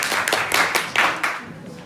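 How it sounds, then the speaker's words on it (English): A small group in a classroom microteaching session claps to welcome a presenter, with sharp, uneven, close hand claps that thin out and fade toward the end. "So now let's invite our first presenter under your loud applause."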